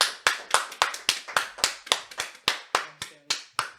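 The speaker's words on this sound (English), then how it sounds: "Round of applause." Close hand clapping welcoming a guest on a small podcast set, about fourteen sharp, evenly spaced claps from only one or two people, with a faint voice near the end.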